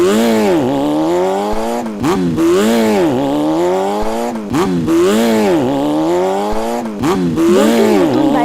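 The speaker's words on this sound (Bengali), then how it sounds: "এই কথা বলেই বল্টু তার বাইক নিয়ে চলে যায়।" Cartoon motorbike engine effect, a loud close revving whine that repeatedly climbs and dips in pitch in three long surges, each broken by a brief gap, with no talk.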